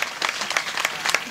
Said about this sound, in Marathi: या संपूर्ण वारकरी टाळकऱ्यांसाठी एकदा जोरदार टाळ्या होऊन जाऊ.